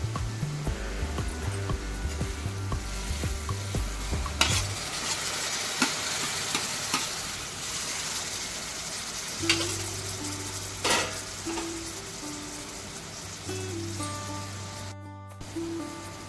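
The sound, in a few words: ambadi (sorrel leaves) being added and stir-fried in a pan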